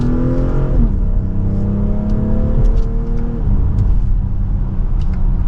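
A 2024 BMW X3 M40i accelerating in sport mode in second gear, the engine note climbing steadily then dipping at a quick shift before rising again, with a loud, continuous exhaust drone and road noise.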